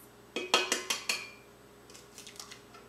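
Four eggs cracked into a bowl for a corn pudding: a quick run of sharp, close taps and clinks against the bowl, then a softer cluster of lighter knocks.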